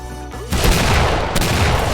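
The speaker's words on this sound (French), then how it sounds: "ce bruit de pistolet" A burst of pistol gunfire in the video game Wild West erupts after a brief lull, dense and loud, with rapid shots layered over one another.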